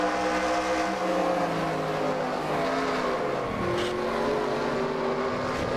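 Onboard race car engine from the NASCAR Racing 2003 PC game, a loud continuous high-revving drone with shifting pitch at speed, steady throughout with no talking.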